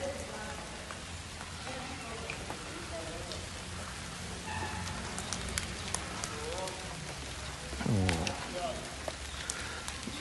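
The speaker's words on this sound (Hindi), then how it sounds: "तो बारिश शुरू हो गई।" Rain falling steadily as a continuous broadband hiss with scattered drop ticks, while indistinct voices talk intermittently over it and a louder burst of sound rises briefly near the end.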